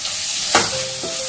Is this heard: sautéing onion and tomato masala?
yes